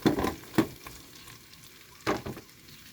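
Fish and vegetables sauté in a pan for pinakbet, with soft sizzling broken by a few sharp stirring scrapes and clatters at intervals, fairly quiet overall.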